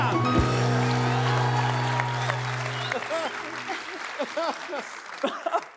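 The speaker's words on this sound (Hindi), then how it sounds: "तालियां।" Studio audience applause on a comedy talk show, clapping rising under a sustained musical tone that cuts off, then continuing with voices talking over it.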